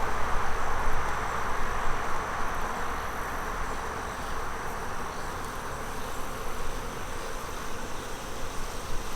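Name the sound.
honey bees buzzing around an opened hive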